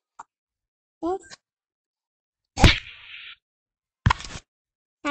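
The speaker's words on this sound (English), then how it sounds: "Sorry about my keys." Computer or phone keys clicking in short bursts during a home glitter craft project, a few separate clusters of sharp taps close to the mic with quiet gaps between.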